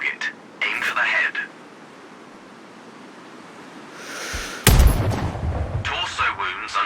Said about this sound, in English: Now, shoot this target. Aim for the head.